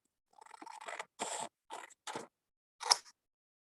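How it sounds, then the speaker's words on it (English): Scissors snipping through paper in an art lesson, a series of four or five separate close, crisp cuts with short pauses between them, heard alone without talk. "I'm gonna cut this."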